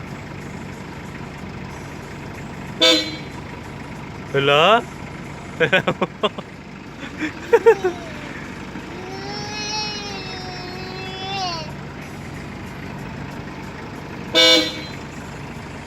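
Horn of a toy or ride-on vehicle honking in short bursts, several separate toots spread across the clip between stretches of speech, with people talking throughout.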